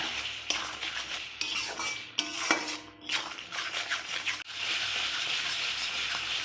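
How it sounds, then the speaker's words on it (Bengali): Masala paste of turmeric and salt is stir-fried in a pan for a South Indian chicken dish, with metal utensil scrapes and clinks over a hissing sizzle that swells louder toward the end. "এবার মশলাটাকে আরেকটু কষা কষাবো"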